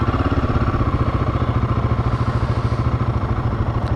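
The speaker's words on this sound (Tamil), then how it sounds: "எக்ஸாஸ்ட் நோட் ஒரு வாட்டி கேட்டுக்கோங்க" Royal Enfield Guerrilla 450 motorcycle idling, its exhaust note a close, steady thumping pulse with rapid regular beats and mechanical clatter, no voices over it.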